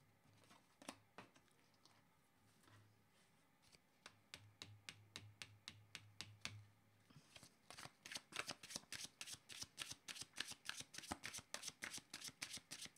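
A deck of tarot cards is shuffled close to the microphone, starting with scattered flicks and settling into a fast, regular run of crisp card slaps, quiet overall and with no talk.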